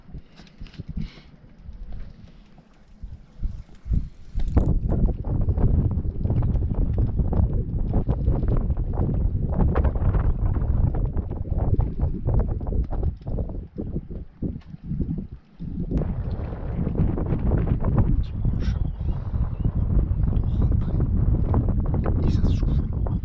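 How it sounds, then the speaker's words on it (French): Strong wind buffets a sailboat at sea during a days-long passage, a loud continuous roaring rush with gusty surges that rise and dip, heard close against the microphone with no talk over it. "Et dehors, eh ben, beaucoup de vent."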